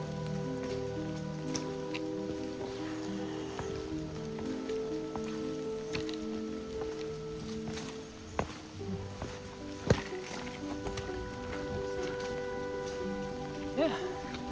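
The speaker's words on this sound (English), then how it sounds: "Starting to pick up rain a little bit." Rain falling on a wooded hiking trail at Hemmed In Hollow in Arkansas, a light, steady patter with scattered nearby drops and faint footstep-like knocks, no speech heard.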